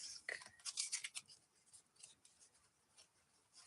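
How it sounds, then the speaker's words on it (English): Small deck of tarot cards being shuffled, giving a run of light papery riffles and flicks that are loudest early, then thin into sparse soft taps, close and quiet with no talking. "let me do some shuffling here. It's harder to shuffle a small amount of cards."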